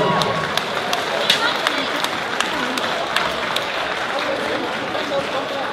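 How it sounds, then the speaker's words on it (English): Applause fills a sports event crowd after a Summer Showdown bout between Mikey Bailey and Brendon Collins, a steady dense patter of many hands with a few sharper claps poking through, loud and continuous throughout. "give them both a massive round of applause"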